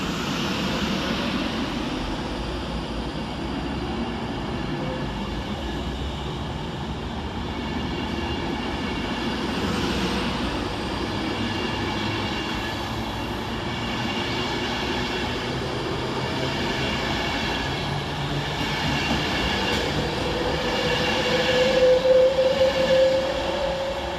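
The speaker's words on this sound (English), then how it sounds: "quickly on his heels is 390-008, working the 1106 Avanti West Coast service from London Euston to Manchester Piccadilly" An Avanti West Coast Class 390 train passes through Macclesfield railway station, a steady, moderately distant rumble of wheels and motors that holds throughout and swells slightly louder toward the end, with no voices.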